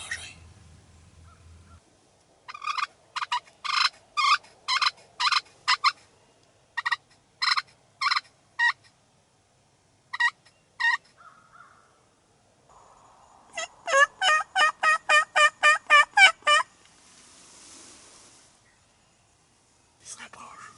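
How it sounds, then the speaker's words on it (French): A wild turkey gobbles repeatedly in bursts of rapid, rattling calls, clear and fairly close in a quiet spring morning woods during a hunt, with a short stretch of call-like clucking between volleys. "J'ai un dindon qui répond ici très proche."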